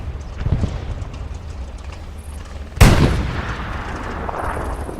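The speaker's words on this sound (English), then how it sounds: "That's a big barrage." Artillery barrage in the online war game Hell Let Loose: a single heavy, sharp blast strikes midway over a steady low battlefield rumble, followed by a decaying roll of echo.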